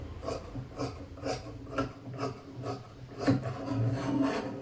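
Scissors snip and rasp through fabric being cut out for a frock, a series of short, rhythmic scraping cuts close by, with no voices.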